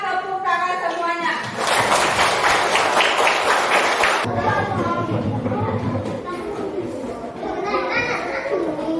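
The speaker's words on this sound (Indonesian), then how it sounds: "kita tepuk tangan semuanya" Children in a classroom clap their hands together in a burst of lively group clapping mixed with excited young voices and chatter, loud and close.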